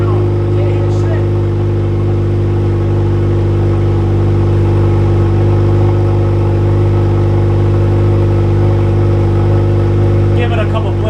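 An FL5 Honda Civic Type R fitted with an AWE Touring exhaust, its engine holding a steady, deep, loud drone throughout with no sharp rev spikes, while voices murmur faintly underneath.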